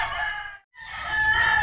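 Gamefowl broodstag rooster crowing at a game farm, one loud, close, drawn-out crow broken by a brief pause before continuing, with no talking.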